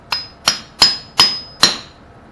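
Five dull, popping hammer strikes land on concrete at a steady pace, each short and thudding with a brief ringing edge.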